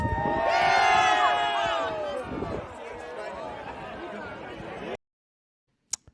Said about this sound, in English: So Dak Prescott, to set the stage here, is getting the crowd all hyped up for Jonathan Garibay to have another attempt at this.